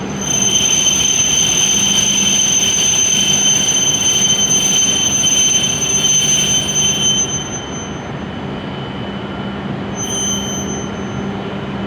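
An E7 series Hokuriku Shinkansen train rolls into a platform at Kanazawa station with a loud, steady rumble and high squealing wheel tones that fade as it slows to a stop.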